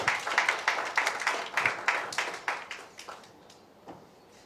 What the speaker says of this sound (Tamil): ஒரு பலத்த கைத்தட்டல் கொடுத்து சார் வந்து வெல்கம் பண்ணிடலாம்.